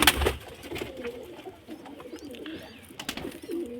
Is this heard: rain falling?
no